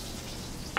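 Pork and bay leaf frying in oil in a pan, giving a faint, steady low sizzle with one brief brighter pop just before it ends.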